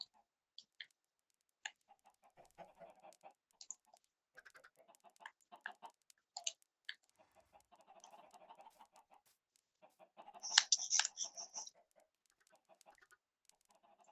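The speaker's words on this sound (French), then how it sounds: "il y a plein de poulets, hein, les gars." Many chickens in a video game cluck in soft, scattered bursts, with a louder flurry of squawks near the end, faint overall and heard alone.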